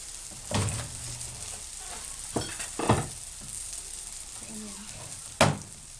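An egg omelette fries in a pan with a soft continuous sizzle, broken by a few sharp utensil knocks and scrapes against the metal, close by and without speech.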